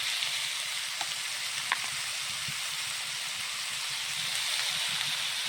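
Onions with turmeric powder and spices fry in a pan, giving a constant soft sizzling hiss broken by a few light clicks and scrapes as the mixture is stirred.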